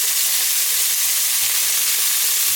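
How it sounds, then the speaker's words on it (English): Chunks of beef sear in a hot pan for stew, giving a steady, loud, even sizzle with a dense hiss throughout and no voices. "So just flip it over, and you want to sear each side as best as you can."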